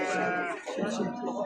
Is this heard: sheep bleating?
yes